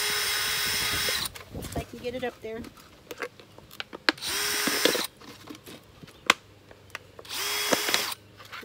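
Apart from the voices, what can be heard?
power drill drilling holes in a plastic planter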